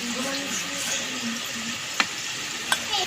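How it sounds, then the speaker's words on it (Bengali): Okra pakora batter of flour and a little water is worked by hand in a bowl, giving a close wet squelching rustle with a couple of sharp clicks. "এবার অল্প করে জল দিয়ে ভালো করে মিশিয়ে"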